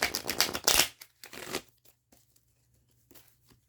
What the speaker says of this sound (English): Let me give these decks a little bit of a shuffle for a minute.